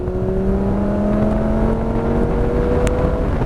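A powerful Lamborghini engine revs hard and climbs in pitch, a loud, close, sustained roar of acceleration with rising tonal whine.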